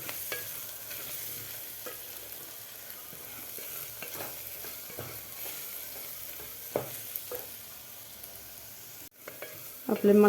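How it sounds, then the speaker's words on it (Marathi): Red chilli powder and spices sizzle in hot oil while being stirred, a soft steady frying hiss with occasional scraping stirs nearby and no voices. "हे मसालेसुद्धा आपल्याला व्यवस्थित एक मिनिटभर त्या खालच्या मसाल्यामध्ये व्यवस्थित परतून घ्यायचे आहेत"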